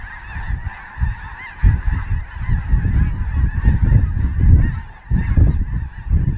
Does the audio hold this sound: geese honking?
yes